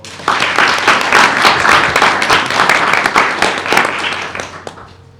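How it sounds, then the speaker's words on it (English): A crowd applauds steadily for about five seconds at a board meeting, dense clapping from many hands that swells quickly and then tapers off near the end. "let's give them a round of applause"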